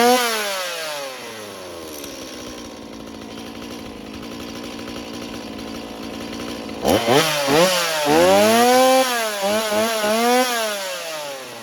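A Stihl MS170 chainsaw running after a service, its two-stroke engine idling high and steady, then revved repeatedly in rising and falling bursts, loud and close with no talk.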